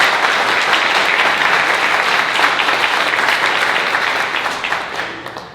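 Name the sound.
audience applause at a grand opening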